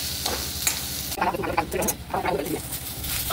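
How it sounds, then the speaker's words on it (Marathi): Onion and cashews fry together in a pan for restaurant-style shahi paneer, a steady sizzle broken by scraping stirs and soft clatter from about one second on, close and fairly loud. "आता आपण याच्यातच काजू भाजायला टाकूया, म्हणजे दोन्ही ब्राऊन होतील सोबतच।"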